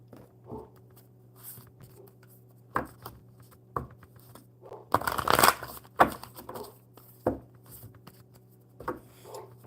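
Oracle cards shuffled by hand in a quiet room, giving soft, irregular riffles and taps with a louder flurry in the middle, over a steady low hum.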